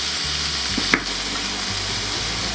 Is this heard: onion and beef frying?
yes